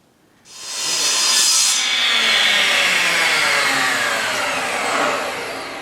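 A saw rips lengthwise through a wooden board, starting abruptly and running as a loud, steady, close whine and rasp that eases slightly toward the end, with no voices.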